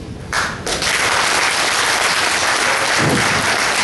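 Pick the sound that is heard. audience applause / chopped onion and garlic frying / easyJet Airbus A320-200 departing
audience applause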